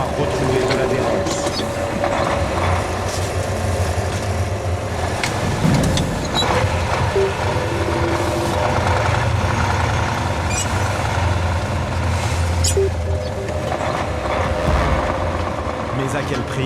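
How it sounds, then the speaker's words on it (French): A heavy old truck engine labors steadily with a deep, strained rumble on a steep mountain road in Tajikistan, while a voice talks over it. "Le camion semble avoir retrouvé de l'adhérence"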